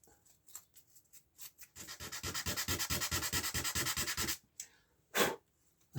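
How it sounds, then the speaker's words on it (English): Wood sanded by hand with 240 grade sandpaper on a bow: a steady run of close, rhythmic rubbing strokes, preceded and followed by a few scattered scratches and taps. "I've got 240 grade sandpaper, and I'll just give that, holding it still, give this a little rub"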